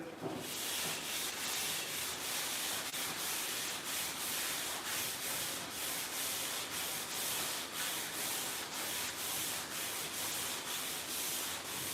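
Block sanding on the painted body of a Dodge Dart 440, a continuous close rasping rub with a steady rhythmic back-and-forth stroke, with no talk.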